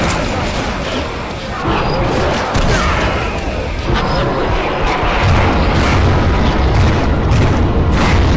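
Loud, dense booming explosions and rumbling blasts from tanks in the video game Painkiller Black Edition, continuous and heavy throughout, with a voice briefly heard under the din.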